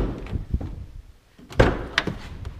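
Rear dual doors of a 2016 Chevy Express van being handled, giving a few solid thunks and a latch clunk close by, the last two sharp and loud, with no voices.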